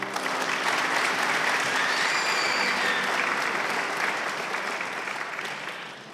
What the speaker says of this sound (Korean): 나오실 때 큰 박수를 부탁드립니다.